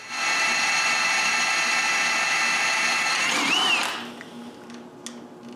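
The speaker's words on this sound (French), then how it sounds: "après avoir figuré l'endroit où je dois percer les trous de fixation, je les perce." A power drill bores fixing holes for a front support on a homemade CNC machine in a woodworking shop, whining steadily and loud for almost four seconds before stopping, followed by faint workshop clatter.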